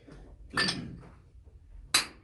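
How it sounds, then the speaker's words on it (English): A single jack hammer strikes a starter drill steel inside an active gold mine, giving two sharp metallic clanks about a second and a half apart, close and ringing briefly against a low background rumble. "You take a starter steel and single jack."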